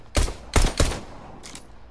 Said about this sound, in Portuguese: Tiroteio, tiroteio.